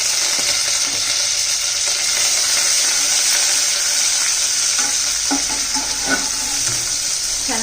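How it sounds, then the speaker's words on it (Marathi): Garlic paste, ginger paste and curry leaves fry in hot oil with a loud, continuous crackling sizzle, joined near the end by a few spatula scrapes and taps. "लसूण पेस्ट आलं पेस्ट कढीपत्ता"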